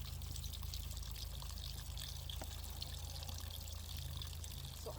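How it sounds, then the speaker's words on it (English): Water pouring steadily onto potted garden plants outdoors on an overcast day, a continuous close trickle and splash running under a faint hum. "So I'm going to go ahead and water these."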